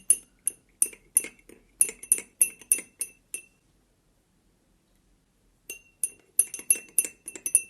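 A spoon clinks against the sides of a glass while stirring Lipton tea, a quick run of bright rhythmic taps, a pause of silence, then another burst of clinking, close and clear with no talking.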